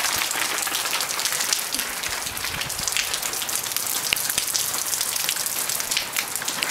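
Steady rain pours down outdoors, a dense continuous hiss of drops pattering on surfaces at constant loudness with no voices.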